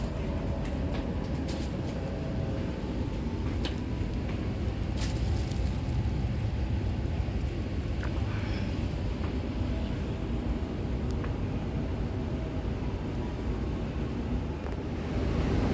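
Steady rumble of a Joglosemarkerto train in motion, heard from inside the executive car, a continuous low roar with occasional faint clicks and rattles and no talking.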